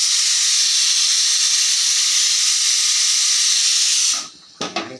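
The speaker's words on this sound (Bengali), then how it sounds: "আর এতে লাউ শাক সেদ্ধ করতে দিয়েছি।" Bottle gourd greens boil in a pot on a home kitchen stove, sending out a loud, steady hiss of steam that runs unbroken for about four seconds, then cuts off into a few brief clattering knocks.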